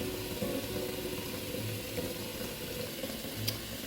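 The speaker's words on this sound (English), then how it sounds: "fill the pan with water until the jar is all covered" Tap water running steadily into a cooking pan around a glass jar, a continuous faint splashing rush with no break across the few seconds.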